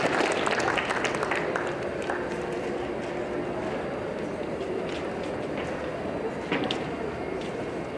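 Audience applause at a public health talk on low back pain, dense steady clapping filling the room for several seconds, moderately loud and continuous with no speech over it.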